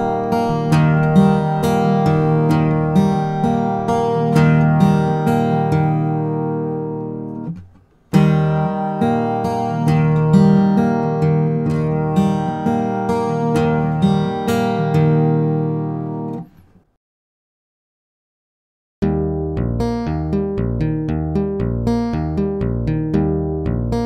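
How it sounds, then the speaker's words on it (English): A song's picking pattern played slowly on open guitar strings, thumb and fingers alternating, clear plucked notes ringing in repeated phrases, loud and close, with two brief silent gaps between runs. "Slowly, the entire pattern sounds like this."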